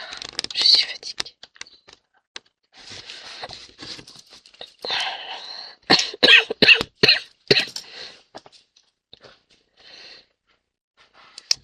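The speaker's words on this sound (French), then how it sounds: "Non, c'est une toux d'irritation." A woman with an irritation cough gives several dry coughs and throat-clearing bursts, close and in clusters, with whispery breaths and soft rustling between them.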